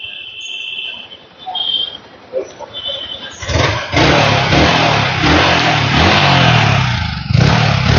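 A used motorcycle with about 5,730 km on it, in almost-new condition, sits quiet at first, then its engine bursts into loud, steady running and revving from about three and a half seconds to the end.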